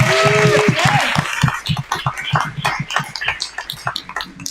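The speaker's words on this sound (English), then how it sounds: "And a round of applause for our moderator." Applause at a community monthly meeting for the moderator: a crowd of hands clapping in a steady patter for several seconds, following a brief announcer's voice at the start.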